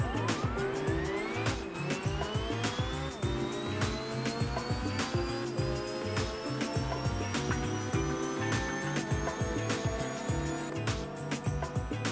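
A tireless car in a racing video game, its engine revving steadily and rising in pitch as the wheels spin, a continuous loud drone with rhythmic pulsing throughout.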